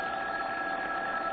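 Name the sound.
telephone ringing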